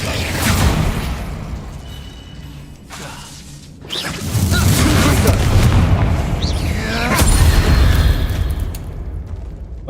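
Bombarda spells blast in Hogwarts Legacy, giving repeated booming magical explosions with whooshing bursts and crashing debris, loud and close, in a dense stream of combat effects over about ten seconds.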